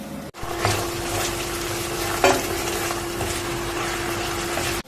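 Steady sizzling and crackling of green peppers and red kapia peppers frying in a hot pan, a continuous hiss with a brief louder flare midway and no voices.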